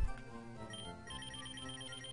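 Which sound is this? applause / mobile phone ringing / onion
mobile phone ringing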